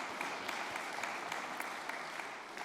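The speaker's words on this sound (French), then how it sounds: "On peut vous applaudir également pour ce travail." An audience at a round-table discussion claps together, a quiet continuous patter of applause with scattered sharper claps, tapering slightly toward the end.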